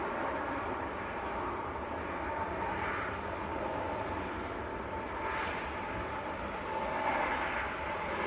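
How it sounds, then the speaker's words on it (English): A Ryanair airliner touches down at Manchester Airport, heard as a steady, fairly distant jet roar with a broad rushing wash. It swells gently a few times and has no talk over it. "Another Ryanair just touching down."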